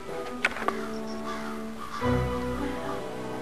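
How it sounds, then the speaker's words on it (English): A crow cawing nearby in a few harsh calls, the rasping caws layered over a steady background hum. "Shut up, crow."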